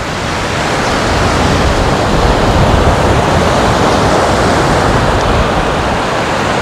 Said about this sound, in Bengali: আরও ভালো লাগে যখন পাথরে এসে সমুদ্রের ঢেউগুলো ধাক্কা খাচ্ছে